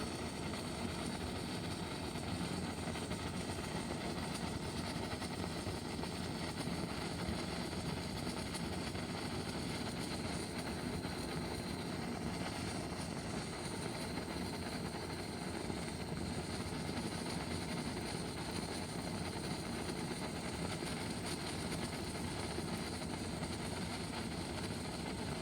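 A gas torch heats a part during grounding work on a swimming pool fitted with a salt electrolyser, giving a steady, even roar that holds unchanged for the whole stretch, with no talking.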